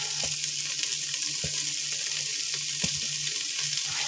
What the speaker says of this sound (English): See them there sizzling away?